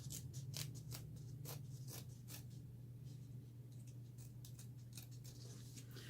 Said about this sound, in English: I'm just going to cut this right here.